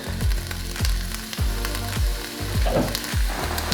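Peppers and onions frying in a pan for beef chilli, a constant sizzle broken by a regular series of low thuds from stirring or tossing, close and fairly loud with no voices.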